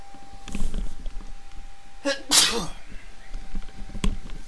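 A single sharp sneeze from a person bursts out near the middle, loud and close, with casual talk and faint background game sounds around it.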